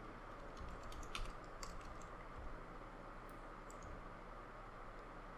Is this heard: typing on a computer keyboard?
yes